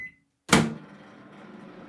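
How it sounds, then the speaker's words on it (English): A microwave oven melting chocolate gives a short beep, then after a pause a sharp clunk of the door or start and a low steady running hum. "all I'm doing is putting it into a microwave."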